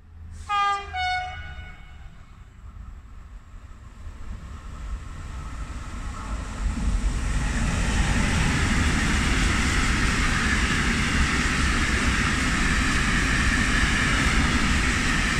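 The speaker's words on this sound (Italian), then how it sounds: "Attenzione! Treno in transito al binario 2, allontanarsi dalla linea gialla." A train runs through Anzola Emilia station on track 2, its horn sounding a short series of blasts before the roar of rolling wagons swells and holds loud and close.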